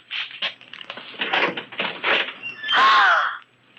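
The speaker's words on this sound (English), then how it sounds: "Ralph, open that closet door." A closet door is pulled open in a spooky drama, with a run of rough scraping and rattling noises ending in a long, loud, rising creak close by.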